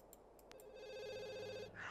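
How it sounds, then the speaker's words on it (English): A telephone in The Sims video game rings in repeated electronic trill bursts, clear and close, with no talk over it. "are you gonna answer the phone or just keep letting it ring"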